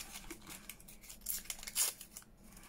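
Paper torn up by hand into scraps for junk journal cluster sheets, a series of short ripping and crinkling bursts of varying loudness, close and alone.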